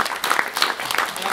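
A short, moderate burst of audience clapping at the Diderot prize award ceremony, a dense patter with no voices on top.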